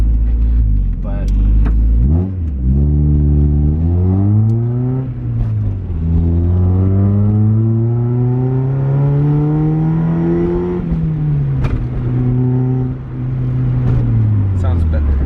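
A Mazda NA Miata fitted with an ISR exhaust revs repeatedly, its engine note climbing and dropping in several long sweeps, loud and close, with a person speaking over parts of it.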